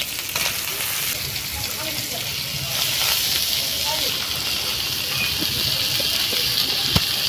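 Chopped vegetables for a prawn and greens dish go into hot oil already holding fried red prawns and onion, giving a loud, steady, hissing sizzle that continues throughout.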